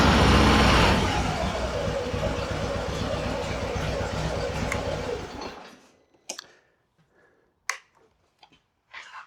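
A vehicle engine with a lithium battery starts loudly and runs with a rough, rumbling drone for several seconds before cutting out, leaving a few sharp clicks and knocks in near silence.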